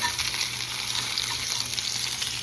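Chicken wings sizzling loudly in a frying pan as they are flipped, a dense continuous close-up fry with soft stirring scrapes and no voices.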